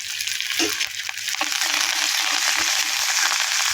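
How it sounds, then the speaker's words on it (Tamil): Hot tempering poured into a pot of sambar, with a steady loud sizzle and hiss that holds throughout, a few small pops and stirring clicks near the start. "இப்போ மல்லித்தலையை போட்டு சாம்பாரில் ஊற்றுவோம்"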